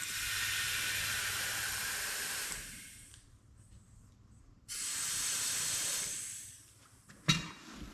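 Air hissing into a Ford 641 tractor tire through the valve stem, two loud sustained bursts of rushing air separated by a quiet pause, ending with a short sharp clack, close up with no one talking.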